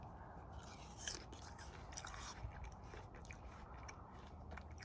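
Quiet, close crunching bites and chewing of a crisp red-fleshed Lucy Glo apple, a few sharp crunches followed by soft mastication, faint and intimate.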